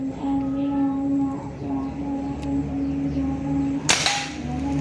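A single shot from a PCP Greyhound Classic T-Rex air rifle fired outdoors at a target: one sharp, close crack stands out against a steady humming background.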